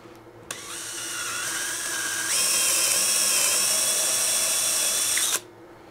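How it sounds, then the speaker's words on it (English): A power drill with a brad point bit boring through wood backed by scrap, whining steadily for about five seconds and rising in pitch partway as it breaks through, close and loud, then stopping abruptly. "you always want to put a backer when you're drilling holes like this"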